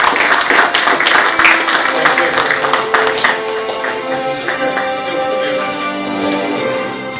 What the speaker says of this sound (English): Put your hands together for Chef Anuj Singh, Executive Chef at the Taj Chandigarh.